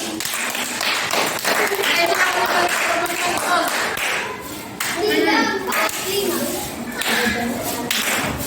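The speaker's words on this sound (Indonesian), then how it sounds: "Tepuk tangan untuk kelompok terakhir." Classroom students clapping for the final presentation group, bursts of hand claps and taps mixed with children's voices and chatter, fairly close and uneven in rhythm.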